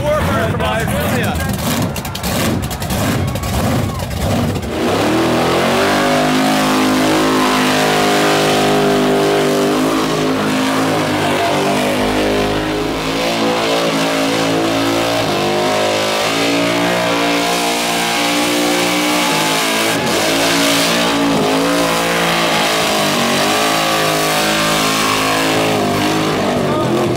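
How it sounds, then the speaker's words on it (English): A burnout car named Warburn from Iowa roars at a night show, its engine revving hard in stuttering bursts before settling into a sustained loud, throbbing howl for over twenty seconds, with crowd noise and voices mixed in. "Last burnout of the night is a car called Warburn from Iowa."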